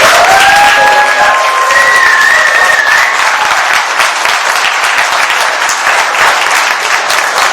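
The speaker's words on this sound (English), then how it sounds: "please, one last round of applause for our two inductees" Sustained, loud round of applause from an audience at a Boxing Canada Hall of Fame induction ceremony honouring two inductees, steady dense clapping throughout with a few faint whistles early on.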